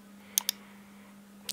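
Two sharp key clicks close together on a computer keyboard, then a pause and a third click at the end, over a steady electrical hum.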